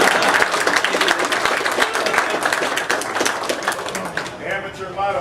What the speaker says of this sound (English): round of applause for the Nick Meister